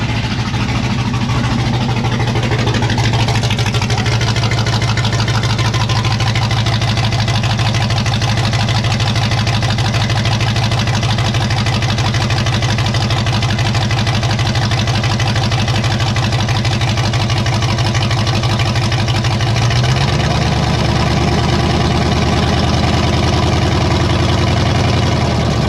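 A 1954 Chevy 3100 truck engine idles loud and close, a steady low rumble running without a break, dropping to a deeper, heavier tone near the end.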